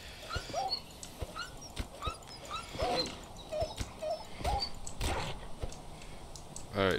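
In the video game Dawn Craft a dog whimpers and yips, giving a string of short, high cries spread across the stretch amid clicks and game sounds, at moderate level, and a person talks over part of it.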